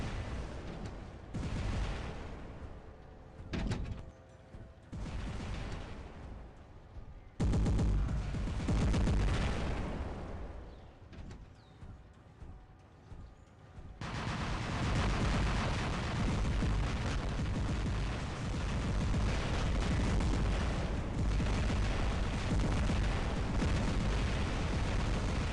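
Heavy booming weapon fire and explosions from robots battling in War Robots, with the Natasha and Ember Magnum in play, making dense, loud, continuous blasts that swell into a sustained roar in the latter half.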